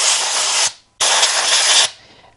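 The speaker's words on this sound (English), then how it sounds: "And now I can blow compressed air into it." Two long bursts of compressed air at about 50 psi blasting into a laptop's cooling vents and fan, each a loud, steady hiss lasting under a second, separated by a short pause, with no talking.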